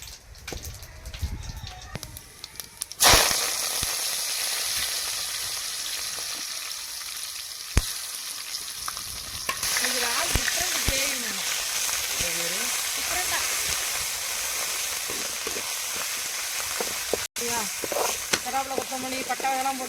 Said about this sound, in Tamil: இஞ்சி பூண்டையும் போட்டு வதக்கிட்டு